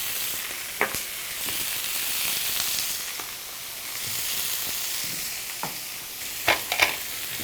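Onions sauté in a pan seasoned with salt and pepper, giving a steady close sizzle and frying hiss broken by occasional sharp stirring clicks and scrapes, with no talk.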